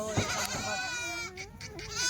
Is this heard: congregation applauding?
no